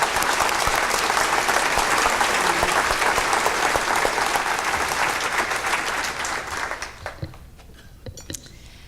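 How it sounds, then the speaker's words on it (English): Sustained audience applause at a gubernatorial debate, a dense wash of clapping from a crowd that holds steady for about six seconds, then thins and fades out into scattered claps. "Please, a round of applause for our candidates."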